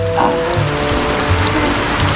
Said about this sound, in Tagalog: Bumuhos na yung malakas na ulan.